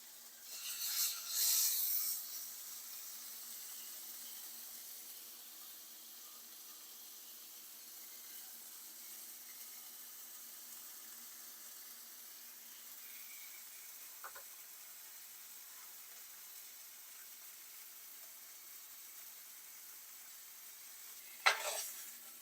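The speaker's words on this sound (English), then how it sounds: "we're just gonna render this thick piece of fat that's on the side" A thick strip of fat on the side of a butter-aged NY strip steak renders in a hot pan, giving a soft, steady sizzle with a louder burst early on and small pops later.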